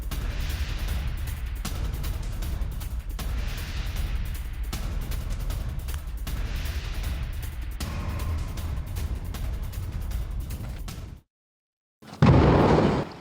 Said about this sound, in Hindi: कवरेज के दौरान इजरायली बम गिरे।